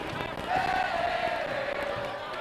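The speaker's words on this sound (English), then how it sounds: "Listen to those fans." Football fans in the stands at the 1985 OQIFC championship game cheer and chant together in a broad, sustained roar, with a rising sung tone carrying over the crowd noise.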